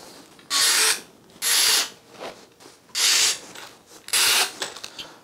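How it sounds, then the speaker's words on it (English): A power drill drives bolts down into roof planks on a tower, four loud bursts of about a second each separated by short pauses, with faint ticks and knocks between them and no one speaking. "So I'm just going to continue bolting down these planks and then do the other planks"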